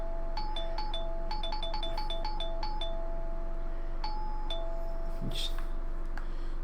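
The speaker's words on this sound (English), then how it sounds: "The persistent ringing continued for a bit, then finally, thankfully, came to an abrupt halt." Repeated electronic ringing tones in the horror game Corpse Party: Blood Drive, chiming in quick bursts, pausing, then returning a few more times before stopping, over a steady low background hum.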